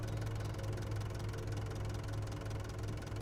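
A tractor engine in Farming Simulator 25 runs at a steady low idle, a constant rumbling drone with a faint knock, fairly quiet and alone.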